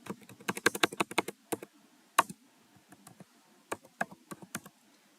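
Keystrokes on a computer keyboard during a web development coding session, with quick bursts of close, crisp clicks separated by short pauses and irregular single taps, with no talking.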